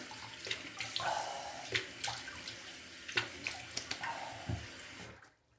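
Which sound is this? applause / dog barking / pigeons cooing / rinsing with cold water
rinsing with cold water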